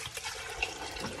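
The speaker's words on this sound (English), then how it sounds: "Slug of water." Water pours into a jug in a kitchen as a brief, soft, splashing gush.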